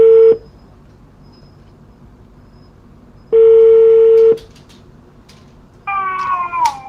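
Telephone dialing tones: two loud, steady electronic beeps separated by silence, followed by a warbling tonal sound near the end, with no talk.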